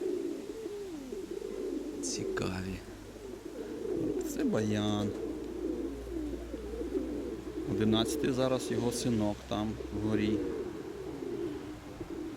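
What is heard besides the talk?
pigeons cooing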